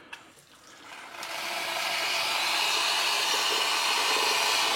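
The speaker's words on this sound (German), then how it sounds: "Und dann kommt Wasser raus, was schon kocht." Near, steady rush of hot water from a kitchen tea tap delivering already-boiling water, starting after a brief quiet moment and holding at a constant hiss to the end.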